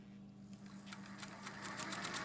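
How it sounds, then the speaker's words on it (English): A Singer 201 sewing machine starts stitching, its rapid mechanical needle rhythm building from quiet to a steady, faint clatter over a low hum. "let's do a little sewing with it"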